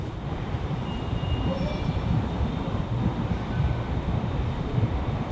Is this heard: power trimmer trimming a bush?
no